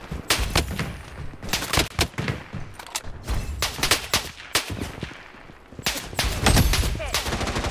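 Rapid gunfire from the Blood Strike battle royale shooter, with dense bursts of automatic weapon fire and sharp shots cracking loudly and nearly without pause throughout.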